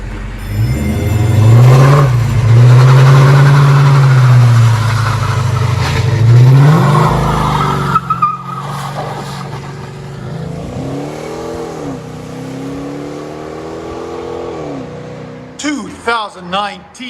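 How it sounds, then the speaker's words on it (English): A 2019 Dodge Charger R/T with a 5.7L Hemi V8 and aftermarket exhaust revs hard in several deep, loud, rising and falling bursts close by, then idles and blips more lightly while people talk. "2019 Dodge Charger"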